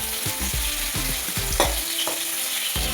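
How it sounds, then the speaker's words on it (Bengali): Pointed gourd pieces fry in oil and are turned with a spatula, a loud continuous sizzle with regular scraping and knocking strokes close by, no voices. "ভালো করে নেড়ে চেড়ে লাল লাল করে ভেজে নেব।"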